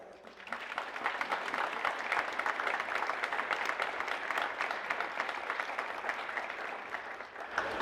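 Sustained applause from an audience, a dense steady patter of many hands clapping that swells briefly and holds evenly throughout.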